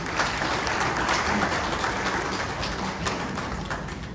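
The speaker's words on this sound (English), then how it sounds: "Once again, a round of applause for Her Excellency" An audience at a book launch celebrating music legend Ephraim Amu applauds the Vice President, a dense, loud, continuous patter of clapping from a close crowd with no voices over it.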